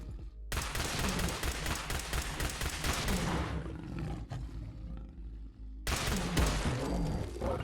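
Rapid laser pistol shots from a classic-style laser pistol in Fallout 4, fired in dense, continuous volleys with a brief pause before resuming loudly.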